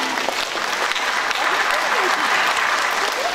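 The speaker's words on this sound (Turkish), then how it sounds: "Kocaman alkış Zeytin'e" Audience clapping along at a children's musical stage show, a loud continuous wash of applause with excited voices and squeals mixed in.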